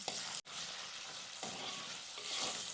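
Fish curry with ginger-garlic paste fries and splatters in a pan, a close, steady crackling sizzle broken by one brief dropout and a few louder popping bursts.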